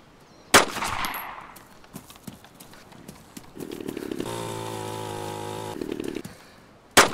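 A chainsaw revs and drones steadily for a couple of seconds in the video game DayZ, framed by sharp bangs and scattered thumps, fairly loud and near.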